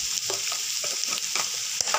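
Vegetables with crushed green chillies and onion are stirred in a hot frying pan, a spatula scraping and tapping in uneven strokes over a bright, continuous sizzle, close and fairly loud with no voices.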